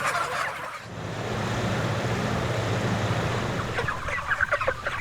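Broiler chickens on a crowded factory farm cluck and murmur in a dense, continuous flock chorus, with sharper bursts of calls near the end and no voices.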